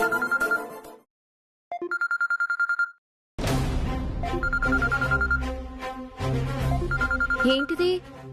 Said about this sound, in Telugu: వీడియో కాల్ వస్తోంది